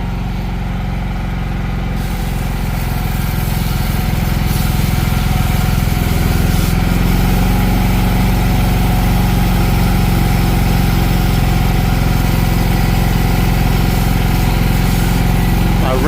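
Pump motor running to suck out a cleaning tank, a loud continuous droning engine hum that holds steady throughout, close and dominating the whole clip.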